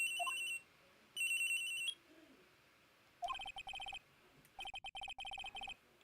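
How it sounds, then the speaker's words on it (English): A cell phone rings in the video game Ace Attorney: Trials and Tribulations with clear, repeating electronic ringtone bursts separated by short quiet gaps. "At around 10:30, I received a call on my cell phone."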